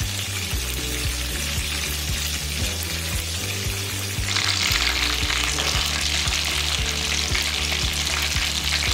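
Whole chicken frying in a pan, topped with white sesame seeds, with a steady loud sizzle that brightens and intensifies halfway through, plus a low rhythmic pulsing underneath; no talking.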